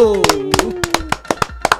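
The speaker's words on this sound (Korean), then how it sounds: "방송 시작하겠습니다. 박수." A few people clap in a studio as a political talk broadcast begins, sharp separate claps in a loose, uneven rhythm, close by, with a voice speaking over the opening beats.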